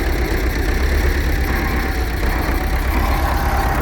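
A tractor engine idles steadily nearby at a stone-extraction site for a chicken facility foundation, a constant low rumble with no talk over it.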